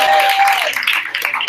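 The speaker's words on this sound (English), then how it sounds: "so he gets applause as well" Audience applause at a basic income giveaway event, a dense wash of clapping held steady throughout with a faint tone fading early on.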